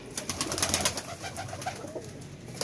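Pigeon cooing among a keeper's birds, soft repeated coos close by over a noisy, rustling background, brief and without talk.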